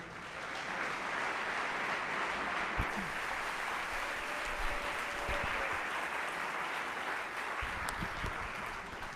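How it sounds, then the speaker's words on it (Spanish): Sustained applause from a congregation at a live religious gathering in Bogotá, a steady wash of clapping that runs the full length with no talk over it. "Un fuerte aplauso al Señor."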